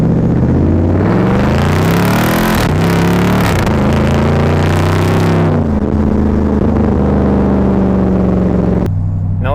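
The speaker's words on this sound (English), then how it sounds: "Especially with this exhaust, it just sounds absolutely ridiculous." A 2017 Jeep Grand Cherokee SRT engine, 475 horsepower, revs hard with a deep, throaty exhaust roar, rising and falling through several loud pulls before cutting off near the end.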